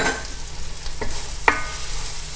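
White button mushrooms and shallot sautéing in a pan for chicken Marsala, a soft steady sizzle with a few scraping stirs of a utensil, close and alone without talk.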